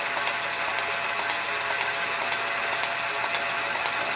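A metal lathe spins on a 1725 RPM motor without back gears engaged, giving a steady, even mechanical whir and hum that holds at constant loudness with no pauses.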